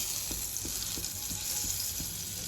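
Butter sizzling in a kadai, a steady close hiss of frying with faint soft ticks from the pan, no voices.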